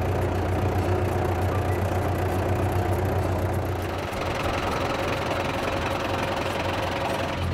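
A tractor engine idles steadily and close by, a continuous low knocking rumble with no talk over it.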